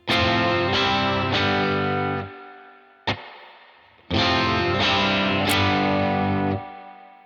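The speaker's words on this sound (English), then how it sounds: "it's the best modeled spring reverb I've ever had" Electric guitar chords ring out with a splashy spring reverb tail, a few strummed hits, a short pause, then more sustained chords fading into the wash.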